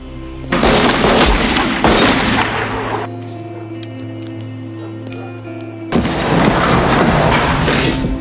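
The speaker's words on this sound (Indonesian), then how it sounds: "Tommy pun langsung ditembak oleh Hadley dari menara pengawas" Loud film gunfire, a prison guard shooting from a watchtower: two long, harsh bursts of blasts and booming reverb, separated by a quieter stretch of low humming tones.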